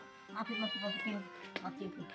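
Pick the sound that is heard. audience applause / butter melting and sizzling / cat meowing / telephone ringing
cat meowing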